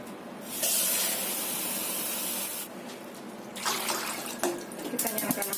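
About 1.5 liters of water from a tap hisses loudly into a cooking pot, meant for boiling crabs, in a steady filling stream that cuts off, followed by clanks and light handling noises of the pot.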